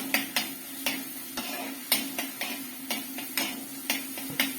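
Curry leaves hit hot oil for a sardine curry, a soft sizzle under a steady rhythm of spoon scrapes and taps against the pan, roughly two strokes a second, near and moderately loud.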